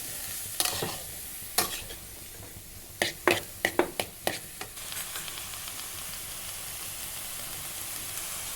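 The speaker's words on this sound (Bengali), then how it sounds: "এটা আমি পাঁচ থেকে ছয় মিনিট গ্যাসটা কমিয়ে দিয়ে একটু নেড়ে চেড়ে ভেজে নেব" Shredded cabbage with carrot frying in a pan over low gas, stirred with a spoon: a steady close sizzle under a run of sharp scraping and knocking stirs, clustered at first and then giving way to an even hiss.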